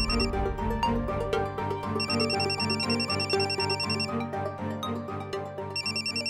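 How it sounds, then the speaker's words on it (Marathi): A phone rings with a repeating electronic ringtone, bright pulsing tones cycling over an underlying musical tone for several seconds, loud and close with no talking. "कुणाचा फोन आहे?"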